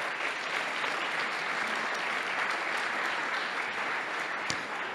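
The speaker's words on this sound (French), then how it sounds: "4 programmes que l'on applaudit." An audience at a housing and territories awards ceremony applauds steadily, dense even clapping holding at a constant level throughout.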